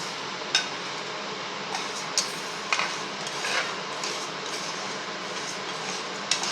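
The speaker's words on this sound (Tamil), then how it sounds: "இப்போ வந்து இந்த பருப்பை போட்டு கொஞ்சம் பொன்னிறமாக வறுத்து எடுத்துக்கணும்." Moong dal roasts in ghee with an even, hissing crackle, marked by occasional sharp clicks from stirring against the pan.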